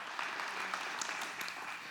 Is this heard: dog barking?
no